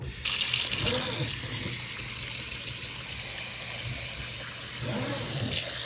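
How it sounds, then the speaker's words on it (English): Cold water runs from a tap into a sink while delicate garments are rinsed, a loud steady gushing stream with slight shifts as hands move through it. "Once again, cold water to rinse these."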